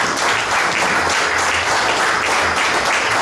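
Steady, full crowd applause fills a hall at a Juegos Florales ceremony in La Democracia, Escuintla, continuing evenly without a break.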